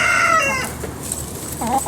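Clucking from a chicken in a backyard pen kept alongside ducks, a short burst of agitated squawks, fairly close and clear, with no talking over it.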